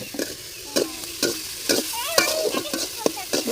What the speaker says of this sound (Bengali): মশলা কষাই দিই তারপর